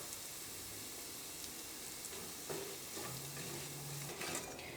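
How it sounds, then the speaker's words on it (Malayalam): Coriander powder frying in hot oil while cooking vegetable korma gives a steady, close sizzle with occasional scrapes of stirring in the pan. "ഈ മല്ലിപ്പൊടിയും എണ്ണയിൽ കിടന്ന് നന്നായിട്ട് മുരിഞ്ഞിട്ടുണ്ട്."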